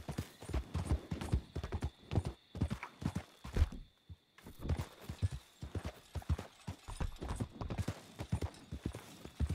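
Horse hooves clip-clopping in the Red Dead Redemption 2 video game, a steady, close rhythmic trot that continues throughout with only a brief lull partway, with some faint tack and ambient game sound.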